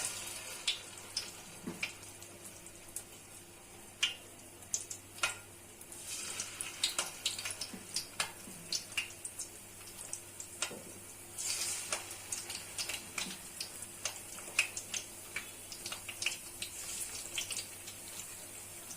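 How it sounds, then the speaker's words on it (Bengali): Cabbage pakoras fry in hot oil with a steady crackling sizzle and scattered sharp pops, heard close and alone throughout. "এখন পাতাকপির পাকোড়াগুলো গরম তেলে ভেজে নিচ্ছি"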